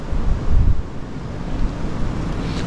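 Wind gusting outdoors during rain at a carp-fishing spot by a lake, a steady broadband rush with stronger low buffeting gusts, no talk.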